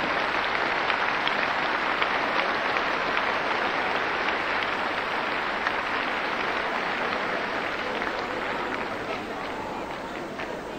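A Dutch TV studio audience applauds after a performance, a thick, continuous wash of clapping that stays loud for ten seconds and eases slightly at the end, with a voice faintly beneath it.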